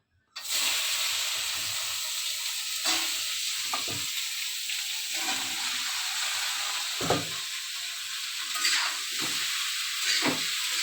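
Oil sizzling in an iron wok, with a loud steady hiss that starts abruptly and runs throughout, broken by occasional sharper spits and splatters, close up and without talk.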